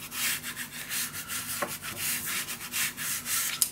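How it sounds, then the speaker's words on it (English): Paper being burnished down onto a Graphic 45 Mother Goose scrapbook mini album, a close, steady series of dry rubbing strokes in a quick back-and-forth rhythm, heard alone. "I'm just going to burnish this down."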